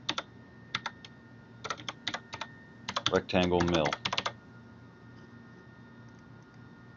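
Bursts of fast, crisp clacking on a computer keyboard, clustered keystrokes in irregular runs, with a brief spoken phrase in the middle and quieter room hum afterward.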